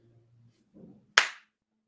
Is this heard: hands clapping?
yes